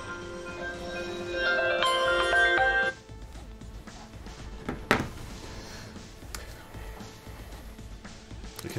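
A cell phone ringtone plays for about three seconds, a bright melodic chime fairly loud nearby, then cuts off into quiet room noise with scattered clicks.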